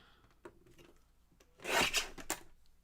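Paper card being trimmed for a recycled Christmas card craft, a few soft scraping cuts building to a louder rasping burst in the middle, close and quiet otherwise.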